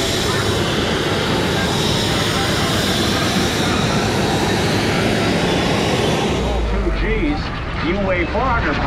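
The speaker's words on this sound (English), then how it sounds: "This is sometimes called a microjet." A microjet aircraft flies overhead at an air show, its loud, steady engine roar filling the scene before easing slightly near the end, with crowd chatter beneath.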